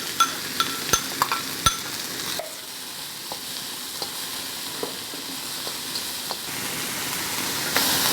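Onions and chili drop into a hot pan and sizzle loudly, a few sharp clinks first, then a steady frying hiss with light stirring taps as a Thai basil stir fry gets going.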